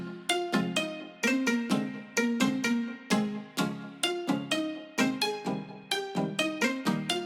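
Plucky synth chords for a progressive house intro made in FL Studio, short bright stabs in a steady syncopated rhythm, each decaying quickly, playing alone.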